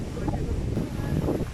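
Wind buffets an outdoor microphone by the sea, a steady low rumble with gusts throughout, mixed with faint wave and voice sounds.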